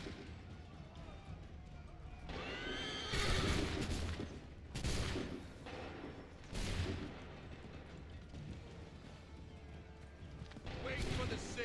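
Musket volleys in Assassin's Creed III crack out on command, several sharp loud bursts spaced a few seconds apart over a busy battlefield bed of shouting and movement.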